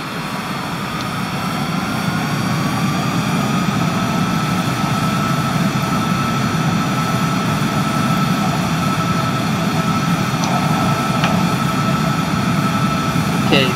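A steady, loud whine and roar from the jet engines of a Cessna Citation CJ4 in a flight simulator, building at takeoff power and holding continuously throughout with no pause.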